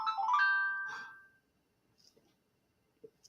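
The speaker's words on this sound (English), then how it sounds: "The Dago phone's alive, guys, and all its loud, irritating noise." A loud electronic ringtone sounds from a phone, a bright warbling chime lasting about a second and a half, then fades to near silence broken by faint small clicks.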